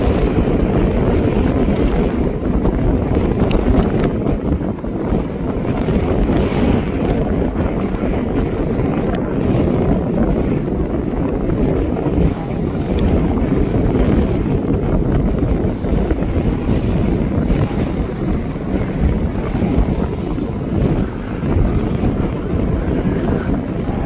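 Strong wind at East Midlands Airport buffets the microphone in a continuous loud roar with gusty rumble throughout, no voices heard.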